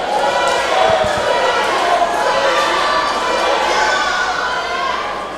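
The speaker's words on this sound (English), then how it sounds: "Crowd is getting angry with Hollywood." A wrestling crowd at a live pro-wrestling show yells and jeers angrily at a performer, a dense, loud wall of shouting voices sustained throughout with a few thumps near the start.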